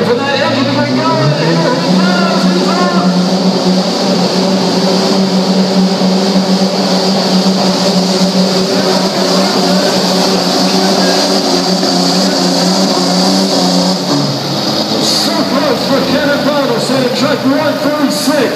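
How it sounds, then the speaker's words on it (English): A 2.6-class race truck engine at a Wauchula, Florida race event, running loud and steady as a continuous droning roar with a rising pitch, and easing slightly near the end. "Wait for that engine to get going."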